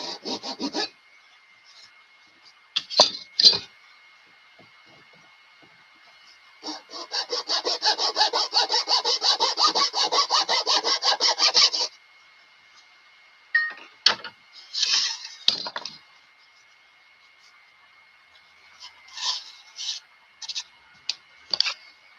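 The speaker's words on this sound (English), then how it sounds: "We can always sand it down a little bit too to make it the 3/8." A wooden part sanded down by hand, a long stretch of rapid rhythmic back-and-forth rasping up close, framed by shorter bursts of scraping and rubbing with pauses between.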